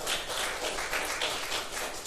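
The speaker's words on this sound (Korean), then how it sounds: "우리 정아자매님 한번 박수하겠습니다." A church congregation claps together at a Sunday worship service in a steady, dense wash of applause that holds evenly for the whole stretch at moderate loudness.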